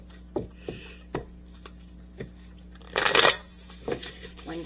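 Tarot cards being shuffled and handled, giving several short crisp riffles and taps with one denser burst of shuffling in the middle, close by over a faint steady background hum.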